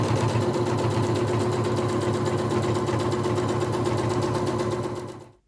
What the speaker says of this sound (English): You're going to sew a 1/4 inch along that line.